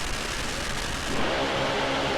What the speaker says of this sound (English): Both cars away clean, side by side down track on nice runs.